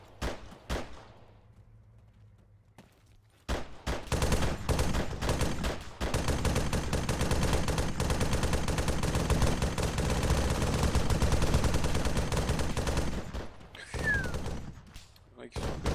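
Heavy gunfire in an Arma 3 cooperative combat mission, with sustained loud bursts and rapid shots that fill most of the clip after a quieter start, with voices briefly audible over radio chatter.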